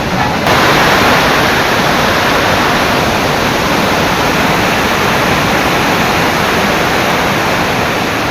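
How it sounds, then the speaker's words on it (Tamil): Floodwater roars over Panchalinga waterfall in the Thirumoorthy hills, a loud, dense and unbroken rushing wash that fills the whole scene without pause. "திருமூர்த்திமலை பஞ்சலிங்க அருவியில் ஏற்பட்ட காட்டாற்று வெள்ளம்."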